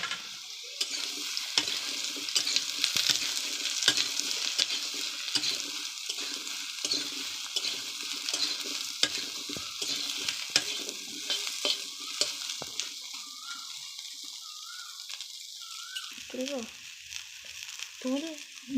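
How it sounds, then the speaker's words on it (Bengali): Potatoes and soybean chunks frying in a pan, a close, continuous sizzle broken by scraping stirs, which quietens near the end as a voice briefly comes in. "আলু আর সয়াবিনটা লাল লাল করে ভেজে নিয়েছি"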